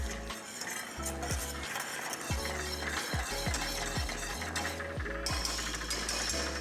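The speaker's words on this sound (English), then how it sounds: "So I just keep stirring them, get them nice and bloomed out in there." Grits being stirred in a pot on the stove, a steady repeated scraping and swishing of the spoon against the pot bottom, close and fairly loud, with no talking.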